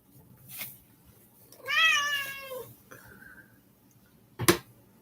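A cat lets out a single clear, close meow with a wavering pitch, set among quiet room sounds, a brief sharp snap and a little talk.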